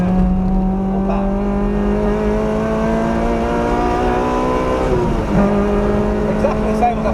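Race car with a 2ZZ engine at full power on a circuit, engine note loud and close with steady climbing harmonics, a brief dip near the middle as it shifts gear, then pulling hard again.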